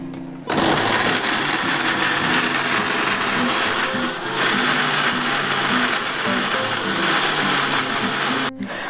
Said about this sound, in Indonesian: Saya tambahkan air sedikit saja, secukupnya ya, supaya bisa berputar dengan baik atau bekerja dengan baik blendernya ini.